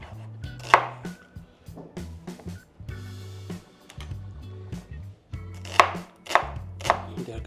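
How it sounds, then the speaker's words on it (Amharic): Onions sliced with a knife on a board: a run of crisp, close chops in an uneven rhythm, with a brief pause before another quick burst of cuts over a faint low hum. "በቅድሚያ እንግዲህ ሽንኩርቱን እንከትፋለን"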